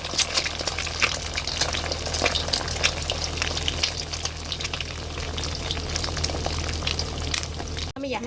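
Eggs fry in very hot palm oil with a dense, steady crackle and sizzle, close up and continuous, with a short break just before the end.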